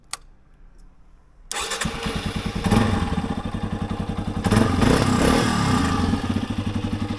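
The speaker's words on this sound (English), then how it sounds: "now we're good to start her up and go for a test ride" A Yamaha XT250 motorcycle engine, freshly serviced with oil change, air filter and new spark plug, cranks after a brief click and catches, settling into a loud, close, rhythmic thumping idle that briefly revs up before steadying again.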